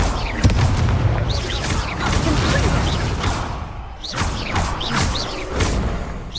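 Spell explosions burst out in Hogwarts Legacy combat, a loud boom followed by several whooshing casts and thuds over a dense, continuous game soundscape, with no pause in the action.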